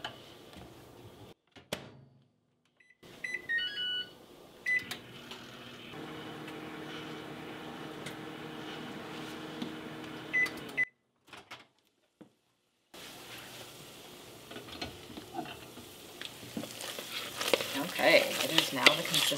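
A microwave oven runs while heating mozzarella cheese for keto empanada dough, a steady low hum with faint sizzling, broken by brief silent gaps and clicks as the door opens and closes between heating rounds.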